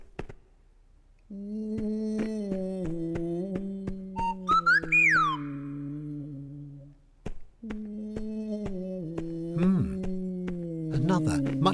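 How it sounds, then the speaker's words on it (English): Strange, wavering whistle-like singing drifts out of a cave in a children's animated show, with long gliding tones, a brief higher squeaky swoop, soft clicks and a short pause before the singing resumes. "what is that strange singing?"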